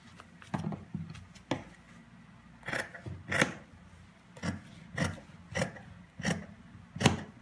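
Scissors cut through folded fabric for a skirt, giving a series of about a dozen soft, rasping snips in an uneven rhythm, close by and fairly quiet, with no talking.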